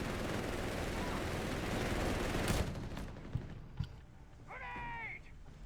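Dense MG-42 machine gun fire rattles continuously in a World War II video game battle, then cuts off, leaving a few isolated shots and a synthetic whooshing effect trailing off near the end.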